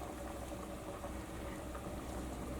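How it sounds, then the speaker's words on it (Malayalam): Coconut oil heating in a steel pan in a home kitchen, giving a faint steady bubbling hiss with no speech over it. "അപ്പോൾ നമ്മുടെ വെളിച്ചെണ്ണ നന്നായിട്ട് ചൂടായിട്ടുണ്ട്."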